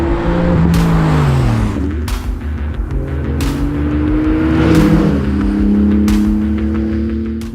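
A 2017 Porsche 911 GT2 RS engine revs hard and close, its pitch climbing and dropping through several gear changes in a loud, continuous mechanical roar, with no talk over it.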